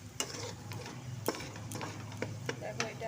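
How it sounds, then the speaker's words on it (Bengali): Turmeric and chili are stirred in hot oil, a soft sizzle under quick, sharp scrapes and taps of the spoon against the pan, fairly faint and close. "তো এটা তেলে ভালো করে নেড়ে নিতে হবে হলদি আর লঙ্কাটা"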